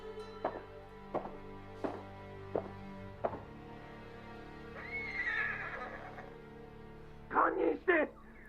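A horse whinnies in a samurai-themed video game, a loud, rising cry around the middle followed by two short snorting bursts near the end, after a series of sharp knocking impacts.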